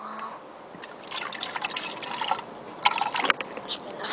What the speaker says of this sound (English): Just a bit of water.